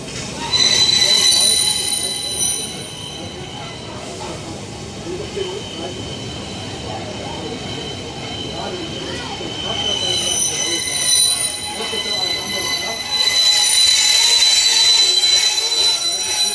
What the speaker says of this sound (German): da hören Sie wieder den Zug hier von Singe, der Schweizer Zug, den IC.